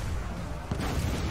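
Heavy artillery piece called the Queen Bess firing in Total War: Warhammer 2, a deep, loud continuous rumble with a sharper boom partway through.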